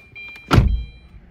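The door of a Tata Tigor EV opens with a short sharp latch-and-swing burst, followed by the electric cooling fan starting up as a low hum, close by with no talking.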